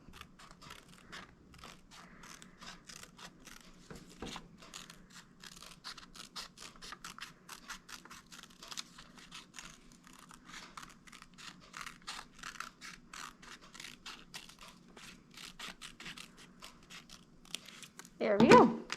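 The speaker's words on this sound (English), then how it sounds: "you can take your scissors and cut the shape out too" Scissors snipping through paper to cut out a drawn shape, with a steady run of small crisp cuts under a person talking throughout, ending in a louder rustle.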